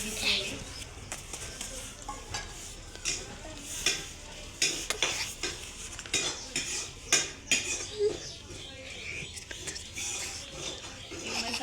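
Paneer curry masala frying in oil over a wood-fired stove, a constant crackling sizzle with frequent metal spoon scrapes and clinks on the pot, a voice speaking over it and a faint bird outdoors.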